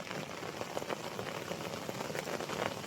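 Heavy monsoon rain pours steadily in the Sahyadri hills near Pendshet village, a dense, even hiss of drops on surfaces with no voices.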